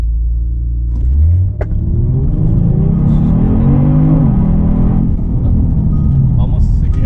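A Kia Stinger GT2 with a twin-turbo V6 makes a dig launch from a rolling start, the engine note surging and climbing as it accelerates hard, loud and close inside the car.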